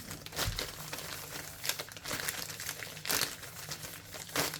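One Piece Nova 5 booster packs are shuffled together, their foil wrappers crinkling and rustling in a steady stream of close, soft scrapes with a few sharper crackles and no talking.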